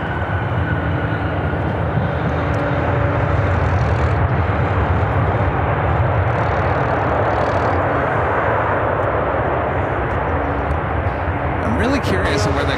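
An American Airlines Boeing 737-800 jet arriving at Chicago O'Hare gives off a steady, dense roar with a low rumble that stays constant and fairly loud throughout.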